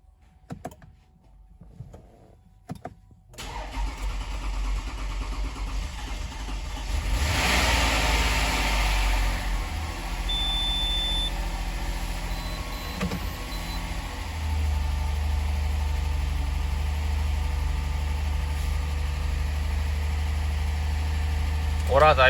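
A Toyota Highlander 2GR-FE V6, under major repair for a cylinder 1 misfire and knock, cranks with a few clicks, catches and settles into a steady close idle, with people talking quietly nearby.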